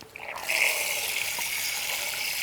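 Water is poured over muddy ingredients to wash them for a traditional Kerala dish, starting with a short splash and settling into a steady, close gushing pour that fills a vessel.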